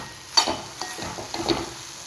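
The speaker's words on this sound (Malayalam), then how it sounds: "ഇത് നന്നായിട്ടൊന്ന് യോജിപ്പിക്കുക." A spoon stirs ground fenugreek and asafoetida in a hot pan for Kerala-style ripe mango pulissery: a series of scraping strokes over a light sizzle, close and steady, with no voices.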